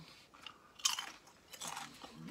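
Close-up crunching of Tim's Cascade Style Cajun potato chips, with a few crisp bites and chews in uneven bursts, fairly quiet and without talk.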